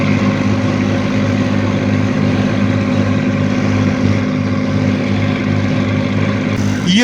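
A motorboat cruising across a calm backwater lake, its engine a steady, loud, low drone that holds without a break throughout.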